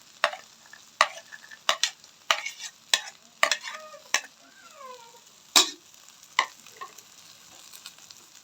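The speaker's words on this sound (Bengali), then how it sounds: "কাজু আর কিশমিশ ভাজা দিয়ে দিলাম।" Fried cashews and raisins are stirred into rice in a pan for prawn pulao, with about a dozen sharp, evenly spaced scrapes and knocks of a spoon against the pan, close and clear, with faint tonal squeaks between strokes.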